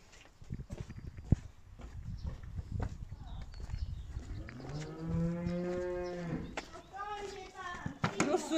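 Cows mooing in the morning on an animal sanctuary farm, a long loud drawn-out moo from nearby with further moos after it, over rustling and stable sounds.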